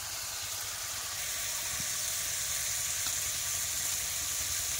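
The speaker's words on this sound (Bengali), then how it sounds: "মশলাটা কিন্তু খুব ভালো করে কষাই হচ্ছে। এবার আচ্ছা, মাথা দুটো দিয়ে দিলে।" Spice paste with bay leaf and salt fries with two snakehead fish heads in a pan, giving an even, continuous sizzling hiss at moderate volume with barely any other sound.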